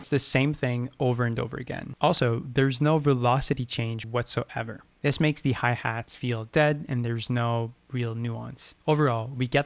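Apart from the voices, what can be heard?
No everyday noises stand out.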